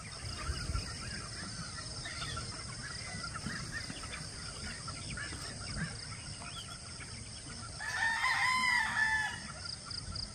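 Hens cluck and murmur faintly at a distance, then a rooster crows louder near the end over a low outdoor background, after a morning rain.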